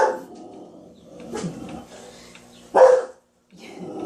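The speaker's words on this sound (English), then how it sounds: "that's two of my doggies." Two dogs barking at a distance in a few short bursts, one louder bark standing out, with quiet gaps between.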